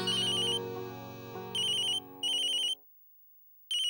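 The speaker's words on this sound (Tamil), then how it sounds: "உங்க அம்மா தான் ஃபோன் பண்றாங்க." A telephone ringtone for an incoming call in a Tamil TV serial, a loud melodic tone followed by bright repeated trilling rings that stop briefly, then start again.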